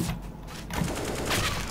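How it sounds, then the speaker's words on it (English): Rapid bursts of Counter-Strike gunfire crackle in quick succession, fairly loud and dense, with no talking. "I was shooting the chickens"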